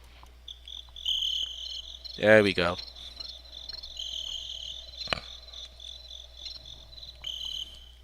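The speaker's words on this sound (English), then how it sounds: "Oh, crickets!" A cricket chirping sound effect runs as a steady, high, pulsing trill through the whole stretch, with a short spoken phrase breaking in near the middle.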